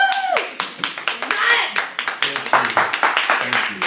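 Applause at the opening of a Fantastic Tangent episode, a close group of people clapping in a quick, uneven patter, fairly loud, with cheering voices and talk mixed in over the clapping.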